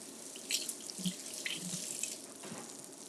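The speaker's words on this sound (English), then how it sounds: "I dropped some. Let me rinse this off." A kitchen tap runs steadily as dropped roast beef sandwich ingredients are rinsed, a close, continuous splashing stream with small clinks, no talking.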